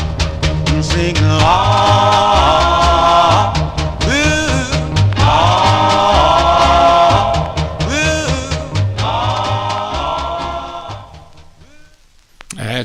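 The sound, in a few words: 1958 doo-wop single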